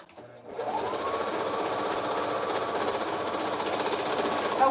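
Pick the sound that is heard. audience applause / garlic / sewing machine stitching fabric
sewing machine stitching fabric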